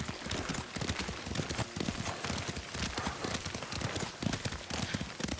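Rapid, rhythmic hoofbeats of a galloping horse pound continuously amid a dense wash of background noise in the video game Ghost of Tsushima.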